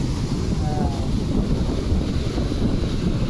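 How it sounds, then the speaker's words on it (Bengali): Sea waves at the beach in Vizag, a constant low roar of surf with heavy wind buffeting the microphone, loud and steady with no clear breaks. "দেখো ঢেউটা কতটা এগিয়ে এলো"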